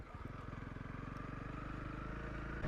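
A Honda CRF 300 Rally motorcycle ridden on a mountain road, its single-cylinder engine thrumming steadily and close with a rapid pulsing beat, rising slightly near the end.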